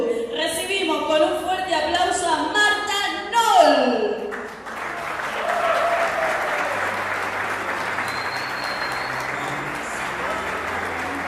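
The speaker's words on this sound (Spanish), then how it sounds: "Recibimos con un fuerte aplauso a Marta Noll." Applause breaks out for Marta Noll, honoured for 23 years of work in healthcare, following a speaking voice and then continuing as steady clapping from a gathered audience.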